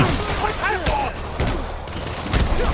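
Several sharp gunshots in a Spider-Man video game crack out irregularly amid busy game sounds, with a voice talking over them in Polish.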